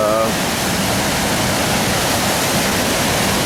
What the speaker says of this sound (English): So you can see the fast and furious flow of the Braan.